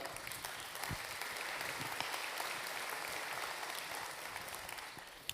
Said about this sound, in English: let's give it a small clap